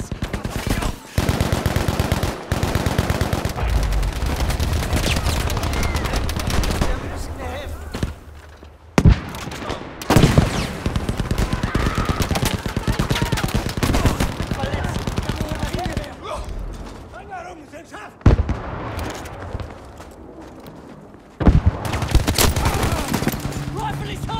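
Video game gunfire, rapid automatic bursts and single shots repeating loudly across the whole stretch, with brief pauses and a voice talking now and then between volleys.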